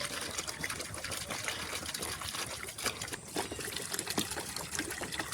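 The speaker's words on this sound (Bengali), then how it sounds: "এটা দিয়ে আমরা এখন পানি দিচ্ছি।" Collected rainwater is poured into a home-made fish tank lined with stones and soil, a continuous soft gushing splash that holds an even level throughout.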